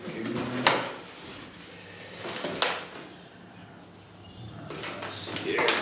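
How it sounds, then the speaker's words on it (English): A knife slices open the packaging of a Georgia-Pacific enMotion PRO 59488A product box in a few short rasping cuts, close and fairly loud, spaced a couple of seconds apart with quiet handling in between. "Trusted knife to open it up."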